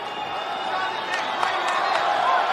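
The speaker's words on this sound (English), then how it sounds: "Crowd enjoying the kickboxing of late." Arena crowd at a UFC women's fight, a broad sustained roar of cheering that swells slightly, heard from a distance with a commentator talking over it.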